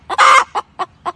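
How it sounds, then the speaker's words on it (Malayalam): A mother hen clucks a sharp alarm, one longer loud cluck followed by three short evenly spaced clucks, close and clear. "തള്ളക്കോഴി"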